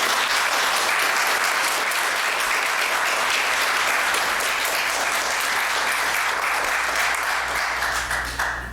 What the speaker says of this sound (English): I think we should give them a round of applause for sacrificing time to try and change the world.